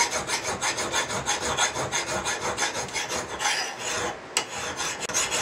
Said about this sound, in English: I just take a very fine file and just work that edge